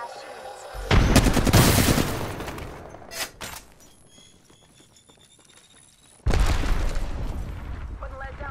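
Automatic weapon fire in the video game Apex Legends: two loud sustained bursts of rapid gunfire separated by a quieter lull with a single sharp shot, close and dense, over game audio.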